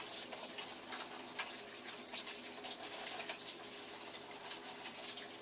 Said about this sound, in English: I'm just going to squirt sanitizer in here, get it all through the hoses, make sure everything's good and wet down